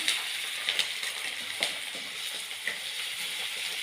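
Small onions, or shallots, fry in a pan with a soft, continuous sizzle and occasional light clicks of stirring, moderately quiet and with no one talking.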